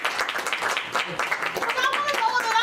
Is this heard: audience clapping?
yes